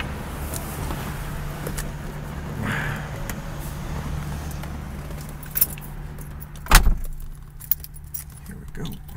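Keys jangle inside a 1973 Chevrolet Corvette with T-tops, a close metallic rattle over a steady low hum, followed by a sharp louder clatter and a few brief knocks near the end.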